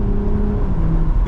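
A BMW Z4 M40i engine in Sport mode drones loudly and steadily at close range, with a low rising tone as the car pulls away; no one talks.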